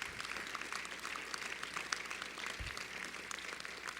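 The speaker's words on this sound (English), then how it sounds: "Come on now, let's stand up, give you a round of applause there." Audience applause for award recipients Will and Caroline at a partnership award ceremony, steady dense clapping throughout, moderately distant and even in level with no voices.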